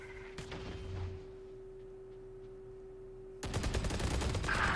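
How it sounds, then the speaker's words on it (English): Valorant gunfire starts with a single shot, then after a quiet stretch breaks into a rapid, loud automatic burst over a constant low hum. Nobody speaks. "We do see them shooting through here."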